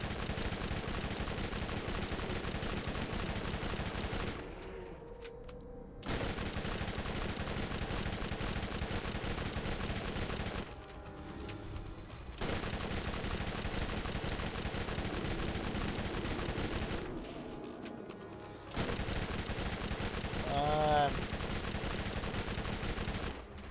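Rapid SMG gunfire in the video game Borderlands, dense bursts of automatic shots that fill most of the clip, broken by a few short pauses between volleys.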